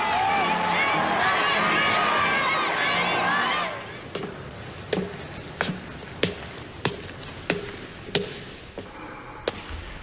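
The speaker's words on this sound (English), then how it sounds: "German troops crossed the Austrian border to be welcomed by ecstatic crowds" Ecstatic crowds roar and cheer as German troops cross into Austria in 1938; a loud, sustained wall of voices fades out and gives way to a series of sharp, evenly spaced thuds.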